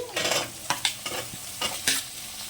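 Ingredients in a pan are stirred and fried, giving a sizzling hiss broken by several sharp scraping stirs, close and fairly loud, with no talking.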